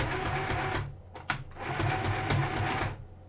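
A sewing machine stitches a Halloween costume hem in fast, steady bursts, its motor whirring loud and close and pausing briefly midway before running again.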